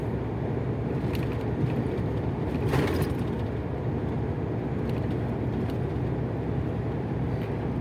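A truck cruising steadily on cruise control along a road at sunrise, with a continuous low drone of engine and road noise throughout, no talking.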